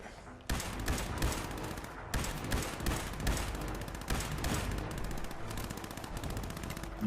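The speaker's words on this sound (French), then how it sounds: "Faites feu à vue." Rapid gunfire in the Fallout 76 video game, loud sustained bursts of automatic shots with brief gaps, dense and continuous with no talk heard.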